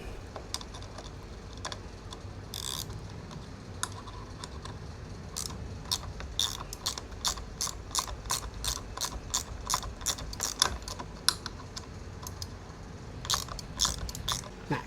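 A ratchet tightening a nut while fitting a brake lever on a Honda Click160 ABS scooter, rapid clicking in repeated bursts, close and crisp, with quiet gaps between strokes.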